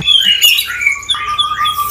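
A white-rumped shama's bright, whistled notes and harsh chattering squawks, close and loud, in quick succession with no talking.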